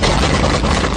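A 1977 GMC truck with a 400 small-block engine runs loud and close in the snow, a steady low rumbling drone that fills the whole moment without a break.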